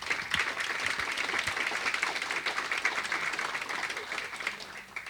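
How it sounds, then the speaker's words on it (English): Applause from the audience at a business readiness summit for major events in Los Angeles, a dense wash of clapping that holds steady and then tapers slightly at the end, with a voice faintly underneath. "I think that deserves a round of applause."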